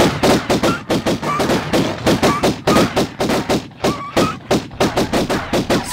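Repeated pistol gunfire in the PS1 game Tomb Raider, loud sharp shots fired in quick irregular bursts throughout, close and dominant.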